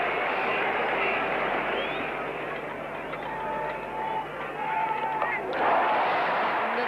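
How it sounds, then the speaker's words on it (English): West Indian cricket crowd at Lord's during the 1975 World Cup Final against Australia, cheering and roaring after a hook shot out of the ground, a broad sustained swell of crowd noise with whistles and shouts rising toward the end. "The West Indian crowd on their feet."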